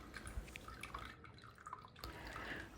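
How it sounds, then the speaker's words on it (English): Cooking liquid from boiled chickpeas strained off as aquafaba, heard as soft close trickling and scattered drips against a low watery background. "We strain out the liquid from the chickpeas and this is called aquafaba."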